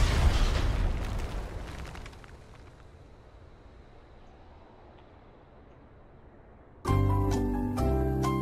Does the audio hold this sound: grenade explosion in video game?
yes